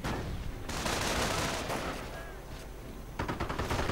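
Video game gunfire from a World War II strategy match as a rifleman squad is sniped, a dense continuous crackle of shots and bursts with a sharper cluster of rapid reports near the end.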